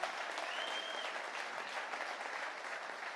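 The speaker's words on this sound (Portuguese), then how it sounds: "levante a sua mão e aplauda o Senhor." A church congregation applauding during a worship service, dense sustained clapping from many people at moderate distance, steady throughout.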